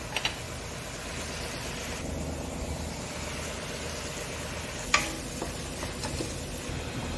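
Vegetables tip into a hot pan with chilli-garlic paste while fish is being cooked, giving a steady close sizzle and frying hiss, with a few sharp clatters of stirring and pan contact near the start and midway.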